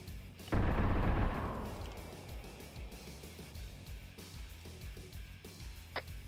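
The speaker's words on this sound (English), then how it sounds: "I think Iander just got hit by the auto turret over here that was looking at him." A single heavy burst of auto-turret fire in a Star Wars video game bursts in loudly, then decays into a long rumbling tail with scattered distant crackles and a sharp late pop.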